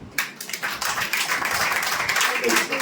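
A church congregation claps together in a dense, continuous wash of hand claps that holds steady for a few seconds, with voices mixed in.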